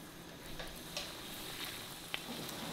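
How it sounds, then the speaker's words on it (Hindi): Spaghetti rolls frying in hot oil over a medium flame, giving a soft, even, faint sizzle with a few small pops. "ऑयल गरम है, अब मीडियम फ्लेम पे इसको फ्राई करेंगे।"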